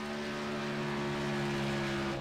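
Race car engines playing through a broadcast, a steady droning whine with sustained tones, held at an even level for a couple of seconds without talk.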